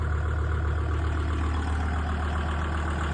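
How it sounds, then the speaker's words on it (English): A tractor engine runs at a steady, loud, low idle while being used to lift skid steer arms on a farm, droning evenly throughout with no talking. "we are trying to lift up the arms with the tractor"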